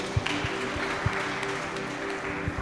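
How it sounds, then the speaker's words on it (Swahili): A congregation at an ordination and anointing service breaks into applause, steady mid-level clapping spread across the room with a few sharper, louder claps standing out. "Nimesikia hapo tunapiga makofi tupige."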